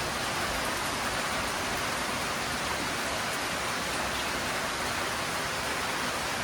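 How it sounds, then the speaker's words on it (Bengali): Heavy rain falling steadily in misty, cloud-covered hills near Darjeeling in North Bengal, a dense, even wash of hiss that holds constant throughout with no voices. "আর তার সাথে প্রচণ্ড বৃষ্টি পড়ছে সকাল থেকে"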